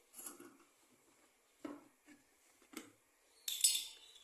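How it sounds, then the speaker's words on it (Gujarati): A metal cooking pot is set down on a lit gas stove, giving a few faint, scattered clinks and knocks and then a sharper metallic clatter near the end. Nobody talks. "હવે એના ઉપર મૂકી દઈએ તપેલું"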